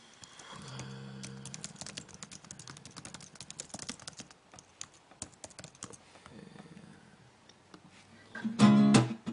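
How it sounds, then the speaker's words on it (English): Quick bursts of clicking on a computer keyboard as lyrics are typed, fast irregular keystrokes with pauses between, close and fairly quiet, ending in a brief louder clatter. "Type some lyrics really quick."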